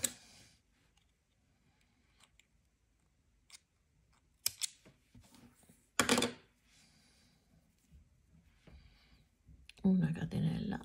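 Scissors snipping through crochet yarn during a rose basket appliqué project, a few sharp isolated snips and clicks with quiet gaps between them, followed by a louder burst of rustling near the end.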